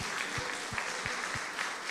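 Church congregation applauding during a prayer service, a dense wash of many hands clapping at moderate distance, with a few rhythmic low thumps pulsing beneath it.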